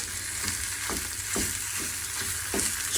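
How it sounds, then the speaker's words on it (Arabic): Minced kefta meat and onions fry in a small pan, a continuous crackling sizzle with a few spatula stirs scraping through it, close and fairly loud. "بعد ما طاحت البصيله ها درنا الكفته"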